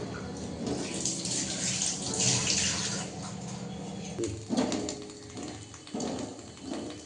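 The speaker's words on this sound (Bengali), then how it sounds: "এখন ভাতটা রান্না করে নিব তো গরম জল বসিয়ে দিলাম" Hot water poured into a cooking pot for making rice for chicken biryani, a broad steady splashing rush lasting several seconds, fairly close, with a few louder surges near the end.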